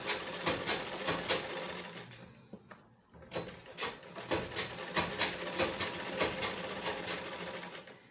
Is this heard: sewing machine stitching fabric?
yes